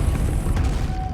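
A Depulso spell cast in Hogwarts Legacy lets out a short, loud, noisy blast with a deep rumbling body that fills the whole moment.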